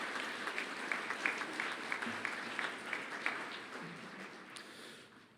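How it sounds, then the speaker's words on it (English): An audience at a college graduation ceremony applauds the event's sponsors, a dense, soft wash of many hands clapping from a distance that fades out toward the end. "Can we get a round of applause for our sponsors here this afternoon"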